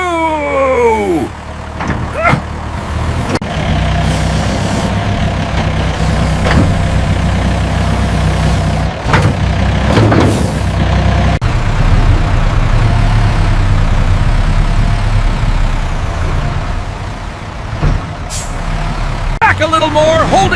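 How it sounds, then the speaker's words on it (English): A truck idles and maneuvers on a farm near a mini excavator digging drainage ditches, its engine a steady low rumble with sharp air-brake hisses and squeals, and a voice talking over it. "Send the truck back."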